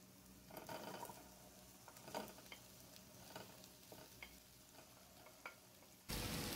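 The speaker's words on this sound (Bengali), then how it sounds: "সবগুলো একসাথে ফ্রাই করে নিচ্ছি" Onion, capsicum and sweet potato frying together in a pan, with soft sizzling and a few scattered stirring clicks and scrapes, fairly quiet and close, before a sudden louder burst of noise at the end.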